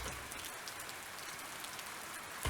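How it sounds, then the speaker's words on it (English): A rain sample of steady rain pattering on a porch, a dense, even hiss of drops with no voices, quiet and continuous throughout. "so I found this cool one of a rain porch"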